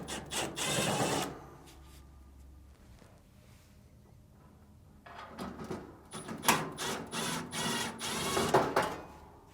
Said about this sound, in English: Now, remove these two Phillips screws.